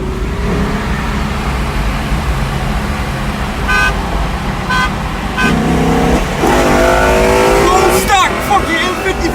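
A bone-stock ten-year-old car accelerates hard in a street pull, its engine roaring loud and close and rising in pitch through the final seconds, with a brief horn-like toot midway.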